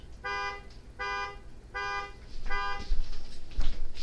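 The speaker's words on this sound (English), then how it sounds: "My horn decided to start honking" A car horn honks in four evenly spaced, steady bursts of about half a second each, loud and close, with rumbling handling noise and low thumps rising in the background after the last blast.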